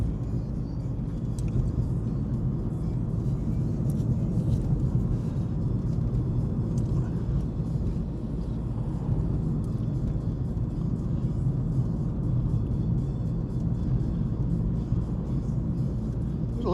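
A car travels along a country road, heard from inside as a steady, loud low rumble and engine drone that holds constant throughout.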